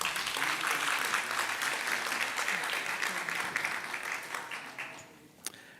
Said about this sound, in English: Let's give another round of applause to Keerthna.